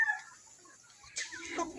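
Heritage chickens, including a Rhode Island Red hen, clucking softly in a backyard layer flock, with a few scattered short calls and a louder burst of clucking near the end.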